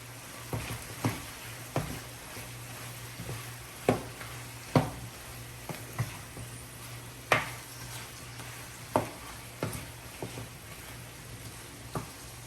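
Crispy chilli beef hisses steadily in a pan while a utensil scrapes and knocks against the metal about once a second in quiet, regular strokes.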